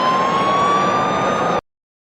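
British police car siren chasing a V12 Toyota Supra, a loud steady wail heard close for under two seconds before cutting off abruptly.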